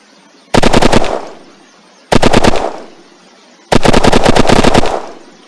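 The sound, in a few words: gunfire from a WWI weapon mod in the video game Unturned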